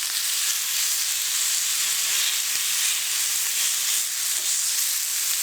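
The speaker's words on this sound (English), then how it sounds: "I've just cut up the meat into about 1-inch slices, and then I simply will just add those to the pan." Thin meat slices for a gyro searing in a pan over high heat, giving a loud, steady, broadband sizzle that holds unbroken throughout with no voice over it.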